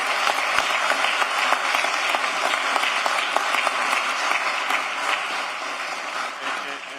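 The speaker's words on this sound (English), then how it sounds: "They deserve a round of applause," Applause fills a room at a commission meeting, a loud, dense burst of many hands clapping that holds steady for several seconds and only eases slightly near the end, with no speech over it.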